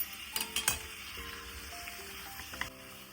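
Boiled chicken drops into hot masala in a pan for Kolhapur dry chicken, bringing a soft steady sizzle with a few quick clatters and stirring knocks near the start, then calmer frying.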